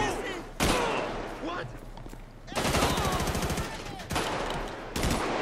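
Video game gunfire in GTA during a Brazilian army operation in Rio de Janeiro: loud bursts of rapid automatic shots, with a sharp volley early on and longer rattling strings that break off and start again.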